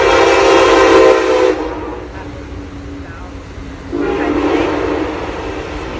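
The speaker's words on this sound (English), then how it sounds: "down where the train goes. It's okay, the train." A train passes near an outdoor play area, its loud horn blaring for about a second and a half, then sounding again more briefly amid rumbling rail noise.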